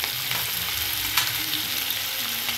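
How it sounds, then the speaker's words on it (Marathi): Chopped onion fries in hot oil with whole spices. The oil gives a close, even sizzle throughout, with one faint clink of a utensil partway through. "आता आपण याच्यामध्ये चाप केलेला कांदा घालू"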